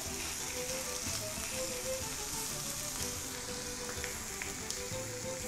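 Veal escalopes sizzling steadily in a frying pan, a bright, even hiss of hot fat with small pops, constant and close, with no talking.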